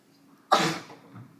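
A single sharp sneeze bursts out in a quiet meeting room during a regional board meeting, loud and brief, then trails off.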